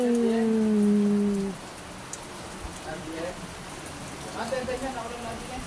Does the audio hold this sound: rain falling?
yes